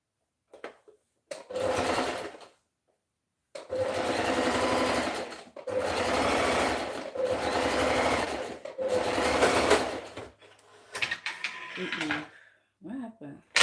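A sewing machine back stitches fabric straps for a two-piece top and skirt, running in four loud sustained bursts separated by brief pauses, close and clear, with fabric handling after.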